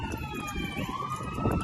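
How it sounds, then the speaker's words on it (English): Emergency sirens wail in the distance, rising and falling tones over a low rumble of background noise. "Sorry, excuse the sirens."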